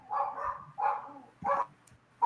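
Dogs bark in a few separate short bursts spaced across the moment, sounding faint and somewhat distant against a quiet background.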